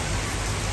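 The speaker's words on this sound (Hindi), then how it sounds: "आर्यन बारिश में नहीं जाओ" Steady rain pours outdoors during a monsoon shower, a dense continuous hiss of drops on surfaces, close and even throughout with no voices.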